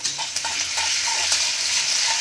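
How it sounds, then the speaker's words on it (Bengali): Garlic paste being stirred into potatoes and eggplant frying in a pan, a steady sizzle with repeated scraping strokes of a spoon, close and continuous. "রসুন বাটা দেবো, দিয়ে ভালো করে নাড়িয়ে দেবো"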